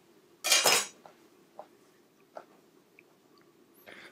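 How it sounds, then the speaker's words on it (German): A kitchen knife cuts the ends off a cucumber on a board, a bright crunching slice followed by a few faint, sparse clicks and taps nearby. "Mit dem Messer schneiden wir einfach hier vorne die Enden ab."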